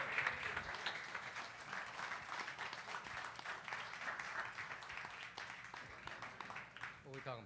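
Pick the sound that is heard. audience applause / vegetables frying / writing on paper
audience applause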